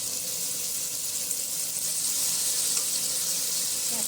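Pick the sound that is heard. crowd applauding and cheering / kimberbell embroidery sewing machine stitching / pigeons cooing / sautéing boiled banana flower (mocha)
sautéing boiled banana flower (mocha)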